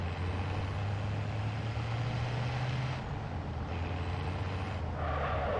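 A vehicle driven around in Warzone 3 gives a steady, low engine drone that holds unbroken and fairly loud for the whole stretch, with no talking.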